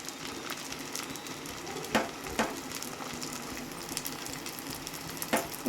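Onions dropped into a pan of frying prawns, a low steady sizzle with a few sharp clatters and scrapes as they are stirred in, heard close with no voices.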